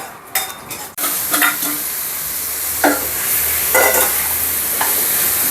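Steady loud sizzling of a spice tempering frying in hot oil with lemon, with a few sharper crackles and stirring scrapes over the continuous hiss.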